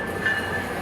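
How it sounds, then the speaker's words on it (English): A train pulls into a transit station platform where fans wait on their way to an Inter Miami game, a brief, steady rumble of rolling rail cars close by. "And here comes the train."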